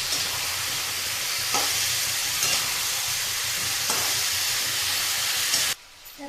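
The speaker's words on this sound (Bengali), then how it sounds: "কপিটাকে একটু ভেজে নেবো" Cauliflower sizzles and fries in a pan with onion and potato, a loud, steady hiss with a few stirring scrapes, cutting off abruptly near the end.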